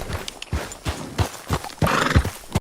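Horses in a Red Dead Redemption open-world scene trot with repeated clip-clop hoofbeats and let out a loud whinny near the end, all fairly close and with no talking.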